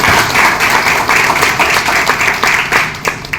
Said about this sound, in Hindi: जरा इनके लिए ताली बजा दो